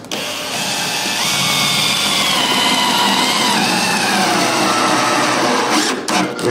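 Lag bolt driven by a power driver into a wall stud through drywall, a steady loud motor whine with pitch shifting as the bolt bites, stopping abruptly near the end.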